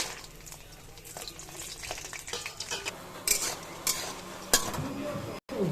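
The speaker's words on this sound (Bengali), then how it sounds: "তেল গরম হয়ে গেছে, বড়িটা দিয়ে দিলাম।" Bori lentil dumplings fry in hot oil with a soft, steady sizzle, punctuated by several sharp scrapes and clinks of a spatula stirring against the pan, close and fairly quiet.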